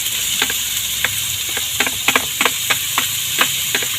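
Onion and garlic sizzle steadily in a hot pan, a continuous frying hiss broken by a dozen or so sharp stirring scrapes and pops spread through the stretch.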